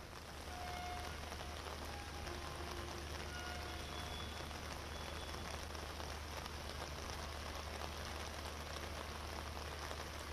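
Heavy rain pours steadily during a storm in Delhi-NCR, a dense, even hiss of drops striking surfaces that holds constant and fairly loud from start to finish with no voices.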